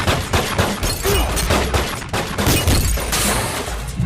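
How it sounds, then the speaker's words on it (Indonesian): Dense, chaotic bursts of gunfire shattering a car, mixed with crashing, breaking impacts, loud and continuous throughout with no pauses, from the film 2 Fast 2 Furious. "Melepaskan tembakan yang menghancurkan mobil milik Mark dan langsung pergi dari sana"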